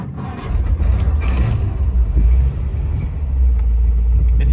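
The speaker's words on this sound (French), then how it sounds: "Démarrage de la voiture, comme convenu, contact ici, on tourne et on a donc le contact qui est mis." A 1962 Ford Thunderbird fires up and settles into a deep, loud low rumble that holds steady for several seconds, with a few faint mechanical clicks at the start.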